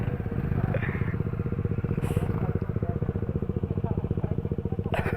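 An RR 310 motorcycle engine chugs in a steady rapid pulse throughout, close and fairly loud, with brief faint clatters on top.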